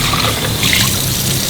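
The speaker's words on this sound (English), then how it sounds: "so just rinsing everything off" Running water rinsing out the dirty water tank of a NEAKASA PowerScrub II cordless vacuum-mop, a close, steady splashing trickle with no talking.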